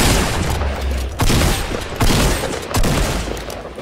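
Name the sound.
gunfire in Fortnite video game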